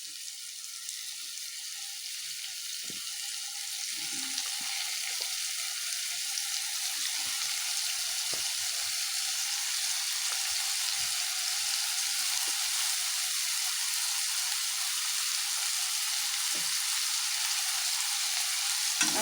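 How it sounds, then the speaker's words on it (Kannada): Mushrooms sizzle steadily in hot oil in a pan for a home-style mushroom masala, a continuous bright hiss with a few faint clicks, close and even throughout with no talking. "ಮಶ್ರೂಮ್ನ ಸ್ವಲ್ಪ ಎಣ್ಣೆಲೆ ಫ್ರೈ ಮಾಡಬೇಕು"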